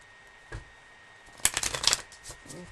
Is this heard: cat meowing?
no